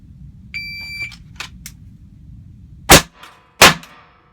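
Two loud, sharp pistol shots about a second apart, fired by a shooter wearing winter gloves during a concealed-carry draw drill at the range, preceded by a brief electronic timer beep.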